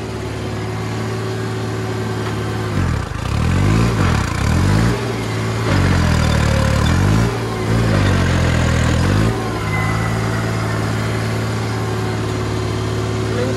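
A Deutz Fahr 70 hp tractor engine runs steadily with a deep, loud diesel drone, rising in a few brief surges of revving before settling back to a constant idle-like rumble throughout.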